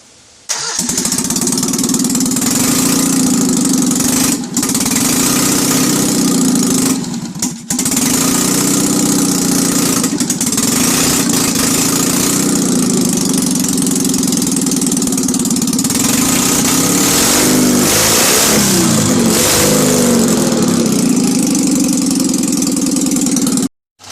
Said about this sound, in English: it's worth hearing again because it's on open headers at the moment